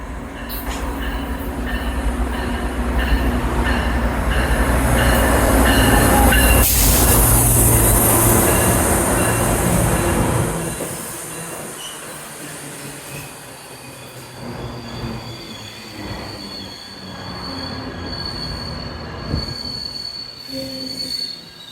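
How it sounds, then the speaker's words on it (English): An eastbound GO Transit train led by MP54AC locomotive 680 passes on track 3 at Aldershot station in Burlington, Ontario. Loud rolling rumble and piercing wheel squeal peak, then ease into quieter clattering as the cars go by. "an eastbound GO train showed up on track 3 here at Aldershot"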